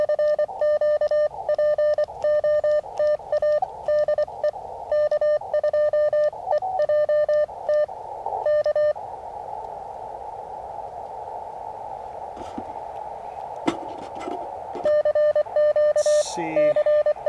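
CW Morse code on amateur radio during a Parks on the Air activation: a close, loud keyed tone beeping in rapid on-off patterns, pausing into hissy static before resuming, with a fainter second signal nearby.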